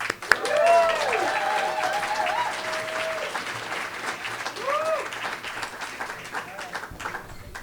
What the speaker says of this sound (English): So let's give a big round of applause for Audi.